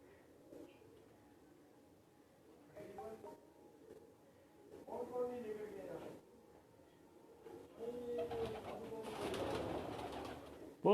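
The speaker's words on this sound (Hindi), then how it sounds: "ज़्यादातर सियालकोटी कबूतर है इनके पास" Sialkoti pigeons coo softly from a rooftop loft, low murmuring calls rising and falling, with a louder burst of fluttering and cooing toward the end.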